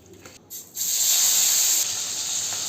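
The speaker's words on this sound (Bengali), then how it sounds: "আমি মাছগুলো ভাজতে দিয়ে দিয়েছি।" Pabda fish, salted and coated with turmeric, is dropped into hot oil and bursts into a loud, sharp hiss that stays strong and steady, then eases slightly toward the end.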